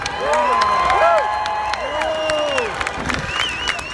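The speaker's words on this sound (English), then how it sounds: "Give them a round of applause." A rally crowd at a Reopen Pennsylvania event cheers loudly, with several voices whooping and shouting in rising and falling calls over scattered clapping. The noise stays full and lively throughout.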